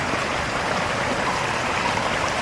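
A steaming natural hot spring waterfall in Idaho, heard as a loud, steady rush of falling water close by, unbroken across the whole moment with no voices.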